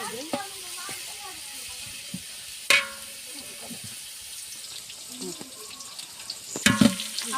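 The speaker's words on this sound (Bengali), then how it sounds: "পেঁয়াজটা কিন্তু সুন্দর করে নেড়ে নিতে হবে।" Onions frying and being stirred in a pan, a steady low sizzle with scattered spoon scrapes and a couple of sharper clanks near the middle and end.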